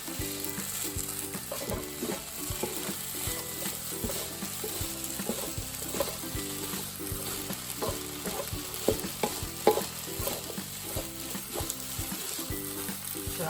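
Stir-frying shallot, Asian vegetables and chili in a pan for Thai spicy chicken fried rice: a continuous sizzle with steady rhythmic scraping and stirring clatter, close and even throughout.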